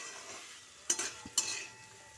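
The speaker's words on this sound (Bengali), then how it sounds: "ভাজা আলুগুলো আরও কিছুক্ষণ নাড়াচাড়া করে এর মধ্যে মশলাটাকে মাখিয়ে নিচ্ছি" Fried potatoes being stirred with spices in a pan, a soft sizzle underneath and two short scraping strokes of the spoon close by, with no voices.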